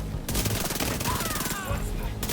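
Very rapid SMG fire in The Division 2, a 1200 RPM weapon, rattling in a dense continuous burst from just after the start nearly to the end, loud and close.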